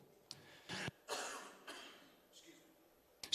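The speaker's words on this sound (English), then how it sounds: "a little bit of a holiday cough" A person with a seasonal cough lets out several sharp, rough coughs spread unevenly over a few seconds, near and fairly soft, with some throat clearing and breathy pauses in between.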